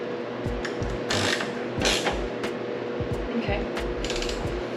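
A ratchet clicks rapidly in short bursts while tightening a bolt on a Nissan S15 Silvia, close and fairly quiet, with a brief voice in between.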